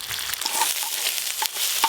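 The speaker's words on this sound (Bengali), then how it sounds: "এবার ডিমগুলো আমি একটু ঝুড়ো ঝুড়ো করে ভেজে নেব।" Eggs scramble and fry on a hot tawa in oil, giving a steady close sizzle with a few scraping stirs and no voices.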